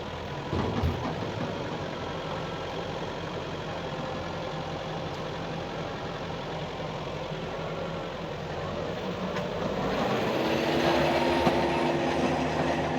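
A Daedong 73 hp tractor with a grapple moves rice straw bales two at a time, its engine giving a steady, close diesel drone that grows slightly louder near the end.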